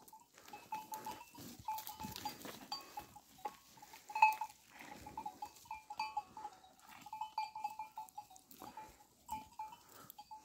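A flock of sheep heads out on a farm at about 7:30 on a chilly September morning, with repeated bleats at moderate distance, some overlapping, over a quiet background with faint clinking.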